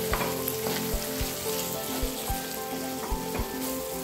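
Tomato thokku bubbles gently in oil on low heat under a lid, a continuous soft sizzle punctuated by regular small pops and blips of bursting bubbles.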